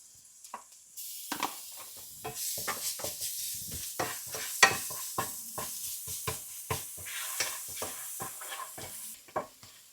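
Onions sautéing in a pan with cardamom, cloves, fennel and ginger-garlic paste for prawn rice give a steady close sizzle, broken by repeated scraping stirs of a spoon against the pan, with no talking.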